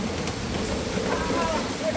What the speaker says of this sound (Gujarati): તમારના અવાજ પરથી જ ખબર પડતી હશે કે કેટલો ફાસ્ટ વરસાદ પડે